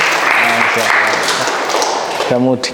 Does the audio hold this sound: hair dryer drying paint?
no